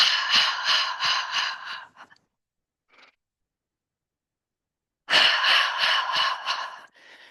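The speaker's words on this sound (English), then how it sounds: "Exhale with the heart sound." Two long, breathy qigong heart-sound exhalations, each lasting about two seconds and close to the listener, separated by a stretch of near silence.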